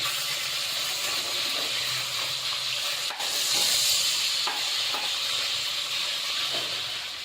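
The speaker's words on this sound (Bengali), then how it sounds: "নুন আর হলুদ দিয়ে ভালো করে মাছের মাথাগুলোকে ভেজে নিতে হবে" Fish heads seasoned with salt and turmeric fry in oil alongside green chilli and bay leaf, giving a steady close hiss and sizzle with a few light stirring knocks.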